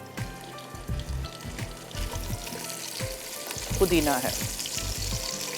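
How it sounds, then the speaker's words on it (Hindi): Dry fruits frying in ghee, a close, lively sizzle with a few stirring knocks and scrapes, while someone briefly speaks over it. "ये ड्राई फ्रूट आपने अच्छी तरह फ्राई करनी है घी में या तेल में या मक्खन में"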